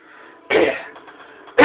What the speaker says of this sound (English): I'm always clearing my throat out.